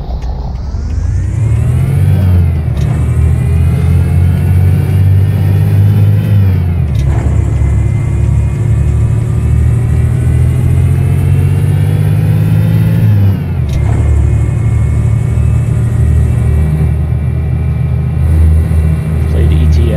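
A loud truck engine in the video game Euro Truck Simulator 2 revs up steadily in long rising pulls, dropping back at each gear change, heard close and continuous.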